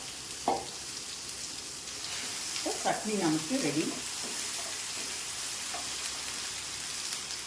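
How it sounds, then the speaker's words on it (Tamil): Hot sesame oil sizzles and crackles steadily as spices are tempered for radish chutney, with a voice speaking briefly over the frying. "நல்லெண்ணெய் ஊற்றி தான் தாளிக்கிறேன்"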